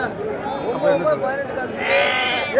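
Sheep and goats bleat repeatedly at the weekly Paramakudi goat market, a busy outdoor livestock sale, with overlapping near and distant cries over a constant crowd murmur and people talking.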